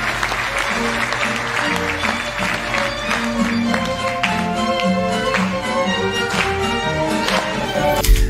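Dense, loud applause from a crowd during a magic card act, sustained and continuous alongside tonal music throughout, with voices blended into the noise.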